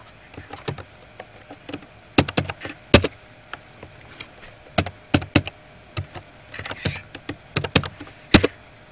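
A password is typed on a computer keyboard: irregular bursts of crisp key clicks with short pauses between them, close and clear with no talk.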